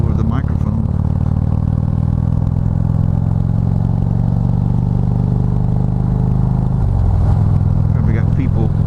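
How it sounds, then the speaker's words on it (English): A Harley-Davidson Street Glide motorcycle exhaust idling loudly and close, a steady low throbbing rumble with a slight pitch shift near the end. "I haven't recorded this exhaust at all, so it may come across as quite crappy sounding over the microphone."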